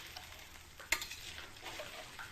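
Fish curry with potato and papaya being stirred and sautéed in a pan, a soft sizzle underneath with a sharp clink of the spoon near the start and light scraping strokes after.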